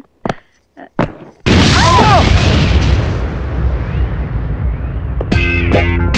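A small bomb hidden in a suitcase goes off with a sudden loud boom that rolls into a long, roaring rumble, preceded by a few short knocks and followed by brief harmonic tones near the end.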